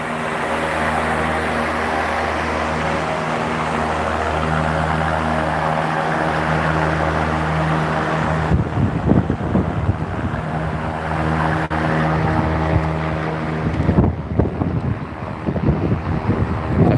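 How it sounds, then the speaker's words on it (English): Standard industrial exhaust fans running at a railroad shop outdoors, a steady droning hum with a low tonal whine, constant and loud, with wind buffeting the microphone in bursts toward the end. "And these are just standard exhaust fans."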